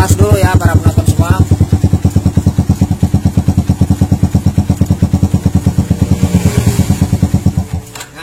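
A Yamaha Jupiter motorcycle engine idles up close with a loud, fast, even putter of firing pulses, slowing and dying out near the end.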